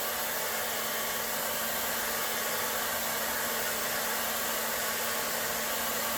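A heat gun blows hot air onto a golf club shaft, producing a loud, unbroken, steady hiss and motor hum very close by.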